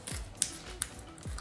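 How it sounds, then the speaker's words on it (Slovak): Sandpaper rubbed over a bicycle inner tube to roughen it around a puncture before patching, giving short, soft scratchy strokes with a couple of sharper ticks, quiet and close with no talking. "použijeme brusný papier"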